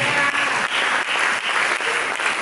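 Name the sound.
congregation applauding in church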